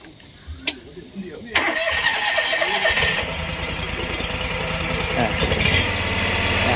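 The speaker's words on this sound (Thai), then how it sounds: "อ่ะสตาร์ทเครื่อง" An old Japanese John Deere lawn tractor engine cranks with a few clicks, then catches and settles into a loud, steady running idle nearby. Someone talks over the start.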